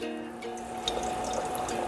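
Green tomatoes fry in batches of about four in hot oil, a steady bubbling sizzle with faint crackles and pops that stays even and close throughout.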